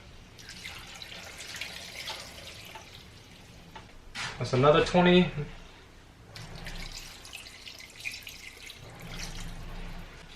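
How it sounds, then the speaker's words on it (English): Water pours from a tap into a pot for Japanese curry in a home kitchen: a steady splashing stream that swells to a louder gush, then a quieter trickle, with a person talking over it. "Now we're going to add 64 ounces of water."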